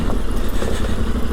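Yamaha Tenere 700 motorcycle engine running, a short, steady, loud rumble with a low throbbing pulse, close by and alone without talk.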